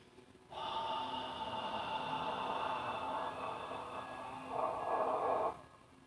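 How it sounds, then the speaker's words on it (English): A single forceful exhale from a yoga breathing exercise, with the abs engaged at the bottom of the breath. It is close and steady for about five seconds and pushes harder near the end before stopping. "When you get to this exhale, you really, really want to engage those abs at the bottom of that breath."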